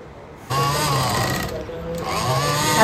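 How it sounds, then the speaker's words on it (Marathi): An electric sewing machine stitches a small purse in two close, rapid whirring runs separated by a brief pause, with a faint voice in the background. "आता ह्या साईडने आपल्याला शिलाई मारून घ्यायची आहे"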